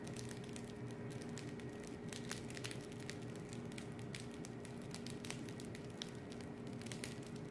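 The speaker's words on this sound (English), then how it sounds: "Can you hear it crackling?" Freshly baked bread bowl crackling as it cools, a faint, steady stream of tiny irregular crackles and pops close up, continuous throughout with no talking.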